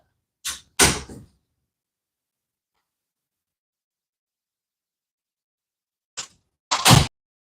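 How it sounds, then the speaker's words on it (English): A door is shut indoors: two brief, sharp knocks near the start and two more a few seconds later, each loud and close, separated by silence. "you close the door"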